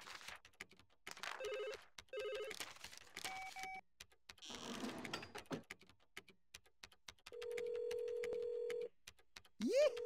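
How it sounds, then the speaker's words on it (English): Telephone in the Bob the Builder PC game rings in repeated electronic bursts with beeping tones and other game sound effects between, ending in a rising whistle, no voices over it. "You could try answering the phone or checking the bulletin board first."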